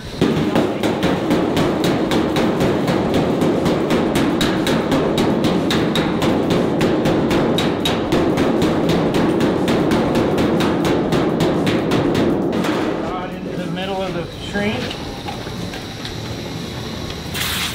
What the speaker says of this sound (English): take the shrinking hammer